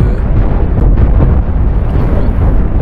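Spaceship explosions in the space combat game Cosmoteer as a damaged ship's generators are hit: a continuous, loud, rumbling roar of blasts that runs without a break, heavy in the low end.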